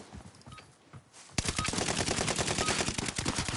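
A video game gun hip-fired on full auto rattles off a rapid, loud burst that starts abruptly after a quieter stretch and keeps hammering without letup.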